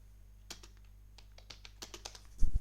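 A netstat command being typed on a computer keyboard in a quiet room: a short, uneven run of light key clicks, ending with a heavier thud.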